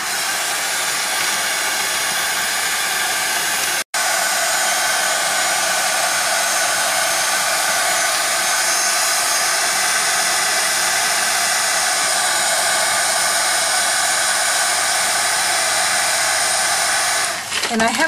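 A heat tool blows a constant loud whooshing hiss over an embossing mixed media tile, with one very brief cutout near the start and the airflow dropping off at the end.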